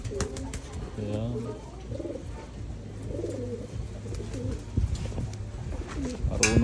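A pet pigeon cooing during a free-flight session outdoors: repeated low, rolling coos near the listener over steady background noise, with a person talking at times.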